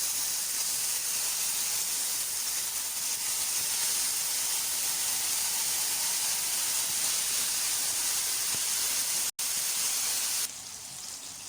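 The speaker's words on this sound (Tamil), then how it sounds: "இப்போ நம்ம கரைச்சி வச்சிருக்க புளி தண்ணியை வந்து ஊற்றிடலாம்." Tamarind water poured into a hot pan for tamarind rice, a loud continuous sizzling hiss that holds steady, briefly cuts out, then continues more softly.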